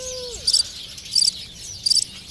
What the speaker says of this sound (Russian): Вон они, какие разноцветные птички.